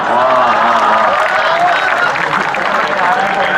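Audience applause at a Hindi comedy poetry recital (hasya kavi sammelan), a dense, steady wash of clapping from a large crowd that holds loud and continuous throughout, with some voices mixed in.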